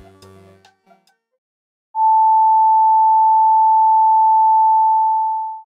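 Sine tone at 880 Hz from a Daisy audio board, a single steady pure beep sounding alone for about four seconds with a faint buzzy edge, after a few brief quiet clicks and noises.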